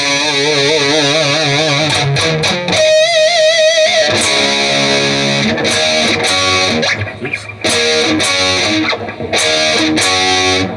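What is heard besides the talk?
distorted electric guitar playing a chorus riff with whammy bar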